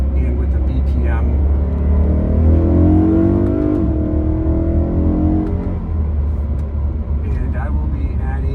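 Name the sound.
BMW E90 M3 induction noise with dyno intake, BPM tune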